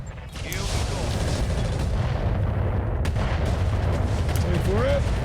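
High-explosive mortar fire in a video game rumbles as a steady low booming barrage, with a voice talking over it.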